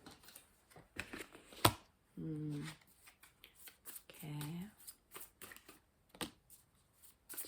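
Tarot cards shuffled in short bursts at close range, two distinct riffling passes separated by quiet pauses, with a soft voice speaking briefly nearby.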